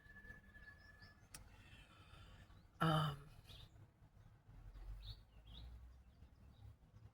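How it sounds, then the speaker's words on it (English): Birds chirp faintly in the distance on a quiet Monday morning, scattered short calls spread across the stretch, broken by one loud close throat-clearing sound in the middle. "You can hear my bird friends singing."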